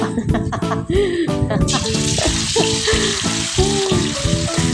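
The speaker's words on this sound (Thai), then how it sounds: "เอาแป้งเข้าหยอดลงไปเนาะ ถ้าเขา ฟูฟึบขึ้นมาอย่างเงี้ย แสดงว่าน้ำมันเราร้อนได้ที่แล้วนะจ้าคุณแล้ว" Batter drizzled into hot oil for frying pork sets off a loud, bubbling sizzle that swells abruptly and keeps crackling steadily, with someone talking over it throughout.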